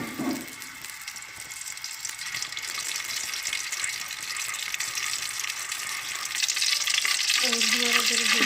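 Cooking oil sizzling and frying in a pan on a stove, a steady hissing crackle that grows louder toward the end, with faint stirring noises.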